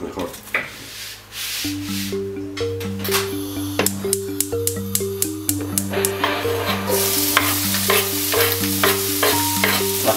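Rice toasting in olive oil in a pan for arroz a banda, with steady sizzling and scraping stirs under a background melody of sustained tones, fairly close and even in level.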